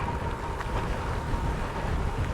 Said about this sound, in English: it's a bit windy today, got a headwind.